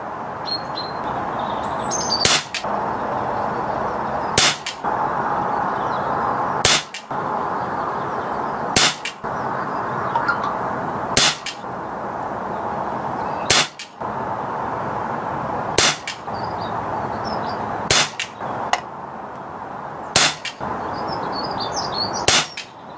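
A Retay T20 air rifle firing pellets outdoors, about ten sharp cracks spaced roughly two seconds apart, close and clear, with birds chirping faintly in the background.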